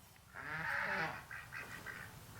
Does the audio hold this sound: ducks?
yes